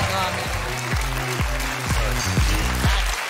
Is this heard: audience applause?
yes